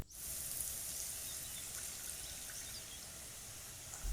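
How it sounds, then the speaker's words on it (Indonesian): A steady stream of water, about 200 ml, pours and trickles into a pan of fried spice paste, continuous and fairly soft, ending with a brief louder splash. "Kalau udah harum, tuangkan 200 ml air."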